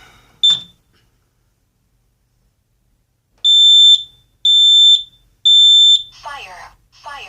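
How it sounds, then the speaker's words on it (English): A household smoke alarm on one floor of a two-storey house sounds three loud, evenly spaced piercing beeps during a test, after a short chirp, followed by a synthetic voice announcement. "testing the other fire alarm in the house"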